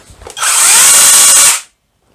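A Dedra brushless mini chainsaw revs up to a loud, close, high-pitched whine for about a second, then its chain brake stops the chain abruptly and the sound cuts off to silence.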